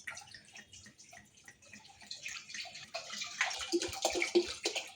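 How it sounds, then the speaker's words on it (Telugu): About a litre of water is poured into a thick cooking pot for a fruit jelly cake, beginning as a soft trickle and building into a louder splashing gurgle as the pot fills. "అందులో 1 లీటర్ వాటర్ పోసుకోవాలి."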